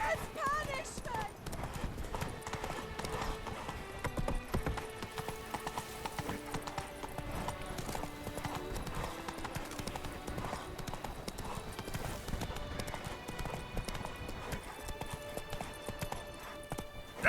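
Horse hooves clip-clop steadily at a walk as Roach moves through The Witcher 3, with a brief whinny, game music and voices layered over the continuous footfalls.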